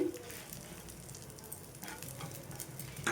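Lentil powder mix with dried coconut dry-roasting in a pan, giving a faint, soft sizzle with light stirring scrapes near the end.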